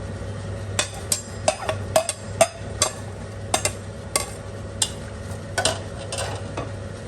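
Two sliced onions frying in oil for a spicy Punjabi chicken pulao, with a steady sizzle broken by sharp clinks and scrapes of a spoon stirring against the pan, close and alone.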